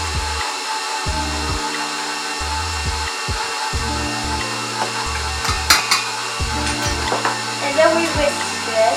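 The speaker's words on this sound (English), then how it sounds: "then we whisk this" Dry ingredients for a strawberry sponge cake, including baking powder and salt, being stirred in an electric stand mixer bowl, a steady motor whir with irregular rattling and clinks, under light background activity.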